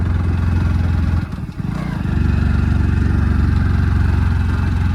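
A 150cc motorcycle engine runs steadily up close on a hillside valley road, its low throbbing drone briefly dipping before settling back to an even idle-like rumble.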